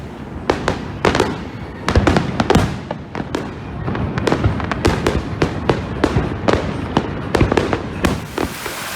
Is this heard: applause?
no